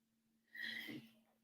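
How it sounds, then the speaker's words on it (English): A single sneeze bursts out mid-broadcast in a quiet studio setting, a short sharp breathy burst lasting about half a second over a steady low hum, near and fairly loud. "I might sneeze."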